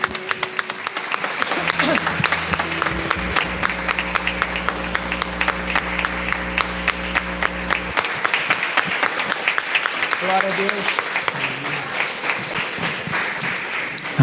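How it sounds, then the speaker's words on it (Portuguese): A church congregation applauds loudly and steadily throughout a Portuguese-language home worship service, dense clapping with an organ or keyboard chord sustained beneath it and a preacher's voice calling out over the noise. "você pode aplaudir bem forte ao nome santo do Senhor?"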